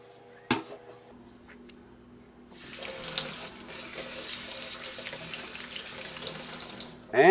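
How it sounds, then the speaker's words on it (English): After a sharp knock, a kitchen sink tap gushes steadily as canning jars are washed in light soapy water, a constant splashing rush that runs for several seconds before a clatter at the end. "I suggest that you wash your jars with light soapy water"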